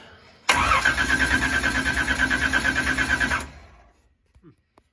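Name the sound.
engine cranking with a starter button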